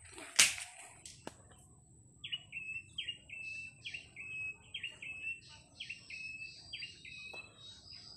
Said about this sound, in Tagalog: Ano kayang ibon yun, guys?